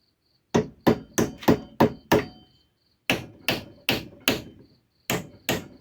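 A wedge is hammered into an axe head in two quick series of sharp metallic strikes, six blows and then five, close and crisp, each ringing briefly with pauses between sets.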